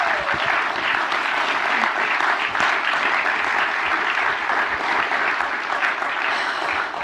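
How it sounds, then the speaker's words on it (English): A full round of audience applause at a London film premiere Q&A for a documentary about Don Lewis, the clapping dense and steady throughout with no talk over it. "can I just get another round of applause for Ned and for Julie, please?"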